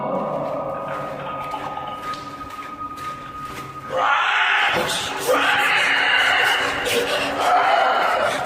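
A harsh, sustained creature screech rises abruptly over a dense, rumbling noisy backdrop in a tunnel, cutting off briefly and then returning even stronger.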